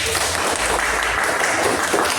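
Applause from a class of students after a discussion in an Islamic jurisprudence lesson, a dense steady wash of clapping that holds at an even level throughout.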